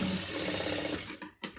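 Sewing machine running steadily as it stitches a fabric sleeve joint, close and continuous, then stopping briefly and giving a short final whir.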